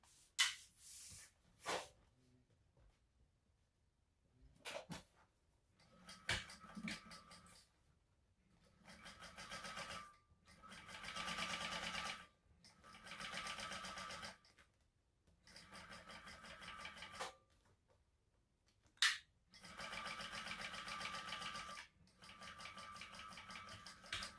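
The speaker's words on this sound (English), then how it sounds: "we're going to top stitch along the top edge here." Sewing machine top stitching along the top edge of a crossbody purse, running in several steady bursts of a few seconds each, separated by short pauses and clicks, fairly quiet and close, with no talking.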